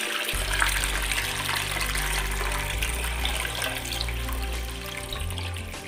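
A toilet water tank flushes after its lever lifts the rubber flapper, a loud steady rush of draining water that holds for about five seconds before tapering off near the end.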